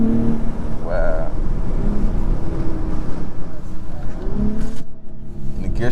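A 2022 Acura TLX Type S accelerating hard, its engine droning loudly from inside the cabin, the pitch rising and dropping at gear shifts, with someone talking over it.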